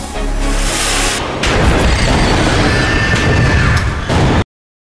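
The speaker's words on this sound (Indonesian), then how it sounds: "Pes mengeluarkan kembang api lalu melancarkan serangan" Fireworks set off indoors during an alien attack in an upper-floor corridor, loud crackling bursts and booming blasts layered in a dense, chaotic roar that ends in sudden silence.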